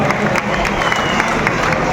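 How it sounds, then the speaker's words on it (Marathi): A crowd at a festival in Beed bursts into loud, sustained applause, dense clapping mixed with cheering and murmuring voices throughout. "एका जोरदार टाळ्या आपण सर्वांनी वाजवायच्या आहेत।"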